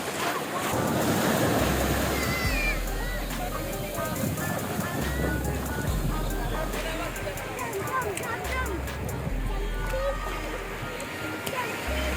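Surf washing onto a beach in Goa, a steady broad roar of waves with wind buffeting the microphone, continuous and fairly loud throughout.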